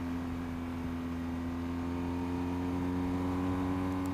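A BMW F900 XR motorcycle engine pulling steadily at speed on a ride with friends, a continuous droning hum with strong low tones heard close from the rider's position, with no talking.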